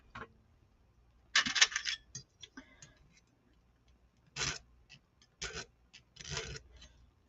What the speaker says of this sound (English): we'll just get one of the little needle files